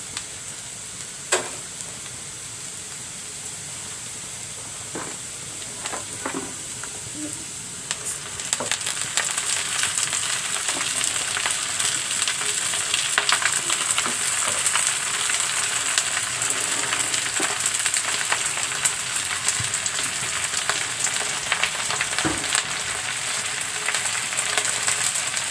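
Stalk amaranth greens (data shak) frying in a pan, a quiet start with a few scrapes and knocks before a loud, steady sizzle and hiss takes over and continues, with occasional stirring clatter.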